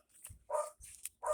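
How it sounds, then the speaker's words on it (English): A dog barks indoors, three short separate barks or yaps at moderate distance spread across a little over a second, with quiet pauses in between and no talking. "That is the dog barking"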